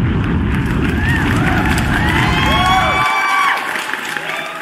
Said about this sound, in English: And let me give you a round of applause